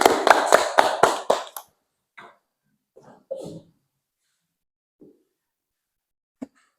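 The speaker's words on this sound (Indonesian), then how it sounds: "Tepuk tangan dulu." A classroom of teacher trainees claps together in a short burst of several quick, loud hand claps that stops abruptly, followed by a few faint scattered taps and rustles in a quiet room.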